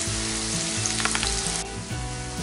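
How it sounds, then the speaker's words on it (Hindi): Onions sizzle loudly in a pan for mutton keema, a dense, steady frying hiss with quick bursts of crackle and stirring, and no talking over it. "ये 3-4 मिनट तक प्याज को फ्राई करते हुए हो गया है"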